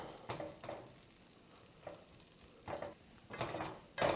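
Breadcrumbs toasting in a pan, with soft dry crackle and intermittent scraping stirs, quiet and close; no talking.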